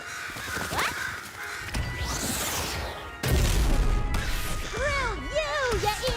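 Crows caw in a game scene, several harsh calls under a busy mix of whooshes, crashes and impacts, with talk present.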